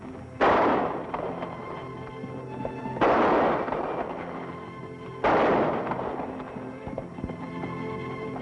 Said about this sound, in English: That's pretty good shooting, Pancho.